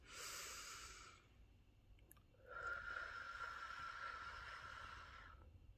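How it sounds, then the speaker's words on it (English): Slow breathing from a person with Covid: a soft nasal inhale, a brief pause, then a longer steady exhale through pursed lips, close and alone. "you breathe in through your nose"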